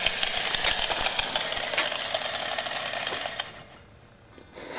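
A refrigeration compressor's steel shell being cut open with a harsh, loud, hissing grind that holds steady for over three seconds and then drops away into near quiet, with a brief burst returning at the very end.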